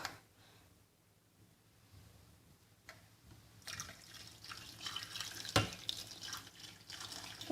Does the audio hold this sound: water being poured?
yes